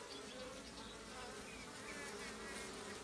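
Honeybees of a hive-kept breed, housed like wild cavity-nesting bees, buzz in a steady dense drone at the hive, close and continuous with no talking.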